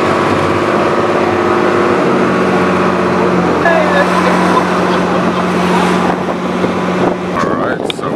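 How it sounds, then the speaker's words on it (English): A small boat's engine drones steadily on a crossing to the island of Helgoland, Germany, with wind buffeting the microphone, a continuous loud hum throughout, with brief faint voices near the end. "we're on the small boat"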